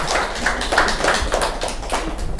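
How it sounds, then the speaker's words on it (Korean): Clapping from a church congregation during a sermon, a fairly dense burst of hand claps spread across the clip at moderate loudness with no talk over it. "박수 치겠습니다."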